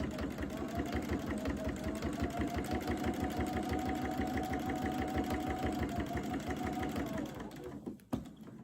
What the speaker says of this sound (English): So I'm just going to, in this case, sew right down to here.